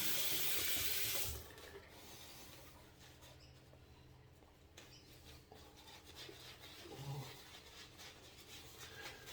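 Hot water runs from a bathroom tap into a sink while someone prepares to shave on a cold day, heard as a steady, fairly quiet rush after a brief louder gush at the start, with no talk.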